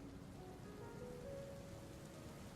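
Steady rain falls throughout in the video game This is the Police, a faint, even patter that goes on without a break while faint tonal game sounds drift underneath.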